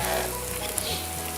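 Steady frying sizzle of onion and garlic in a hot pan, a continuous crackling hiss with no talking.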